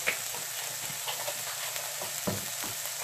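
Seasoning, including cayenne, stirred into hot coconut oil in a pan, a steady close sizzle with soft scraping strokes and a few light clicks of the spoon.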